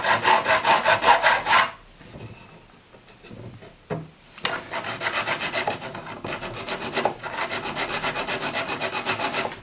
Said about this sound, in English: I'm switching over to this finer file. It's like a medium, kind of like a medium grit.